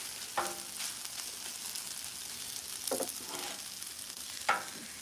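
Cabbage fries in a pan with a steady soft sizzle, broken by three sharp clinks and scrapes of a utensil stirring against the pan, with no voices.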